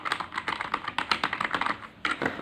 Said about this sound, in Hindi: इसमें साउंड का आवाज़ भी आता है, जैसे मैकेनिकल कीबोर्ड में आता है ना, उस टाइप का आता है